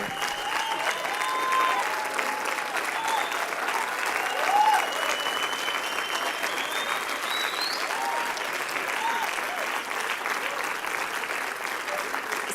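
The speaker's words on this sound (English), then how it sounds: "You're going to have to just reserve that applause." Sustained applause fills a church conference session after a pastor's talk, dense even clapping from a sizeable crowd throughout, with faint tonal sounds and a brief swell in the middle.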